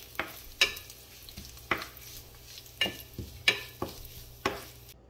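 Mustard seeds and dried chillies tempered in oil for a traditional coriander sambal: a quiet background sizzle with a series of sharp, irregular taps and scrapes of a utensil against the pan.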